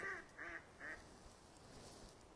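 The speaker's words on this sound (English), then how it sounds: "the ducks are saying hello to you as well" Ducks at a pond in winter give three quick nasal quacks in a row, fairly faint and distant, then fall quiet over outdoor background noise.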